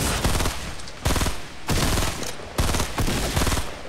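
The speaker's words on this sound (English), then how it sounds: "Just keep shooting." Rapid automatic gunfire in Fortnite, loud and close, coming in four or five sustained bursts separated by brief pauses.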